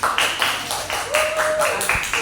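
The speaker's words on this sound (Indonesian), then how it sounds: "Tepuk tangan anak-anak." Schoolchildren clap together in a classroom, a quick run of sharp claps falling into a steady rhythmic pattern, with a thin sustained tone briefly rising over the middle.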